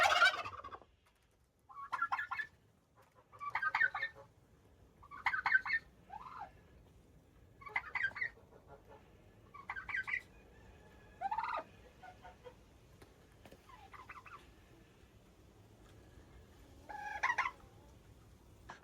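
Farm turkeys gobble in a run on a cold, snowy day, giving about eight or nine separate bursts of warbling calls at a steady, fairly close range with short quiet gaps between them.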